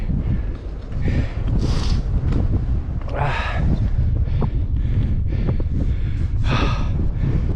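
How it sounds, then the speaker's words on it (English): Strong, gusty wind buffets the microphone on a Scottish mountain top, Ben More and Stob Binnein, in a constant loud roar, rising and falling in blasts, with occasional heavy breaths close by. "As you can hear, it's windy up here."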